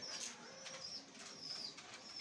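Soft pigeon cooing, a few low murmuring coos amid faint background chirps, fairly quiet and close.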